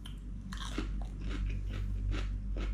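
Crisp lettuce dipped in seafood sauce bitten and chewed up close, several sharp crunches followed by wet chewing over a low background hum.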